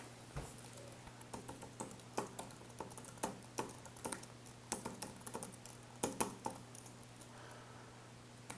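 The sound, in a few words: typing on a computer keyboard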